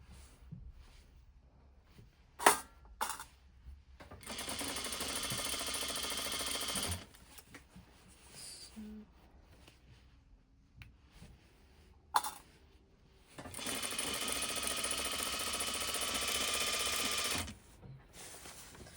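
A sewing machine stitches a single roll-up hem in two steady whirring runs of several seconds each, separated by quiet handling, clicks and fabric adjustments.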